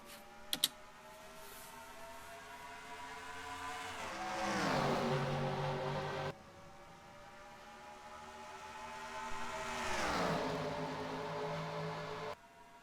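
Race cars in NASCAR Racing 2003 at Atlanta, a full field at a green-flag start coming off turn 4, engines droning steadily then twice swelling into loud pass-bys that sweep down in pitch as the pack roars past.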